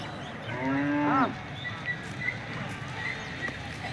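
A single loud, drawn-out bullock moo close by at a crowded bull market in Peth Vadgaon, rising and falling over about half a second, then fading into the steady murmur of voices and distant market bustle.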